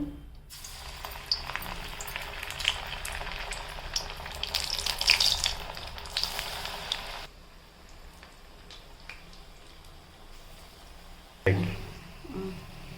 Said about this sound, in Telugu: ఇప్పుడు స్టవ్ పైన ఆయిల్ పెట్టుకోవాలి, డీప్ ఫ్రై చేసుకోవాలి.